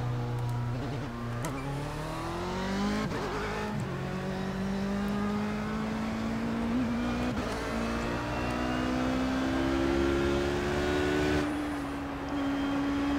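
A race car engine in the iRacing simulator, droning and revving upward in several rising sweeps through the gears, steady and clear with no talking.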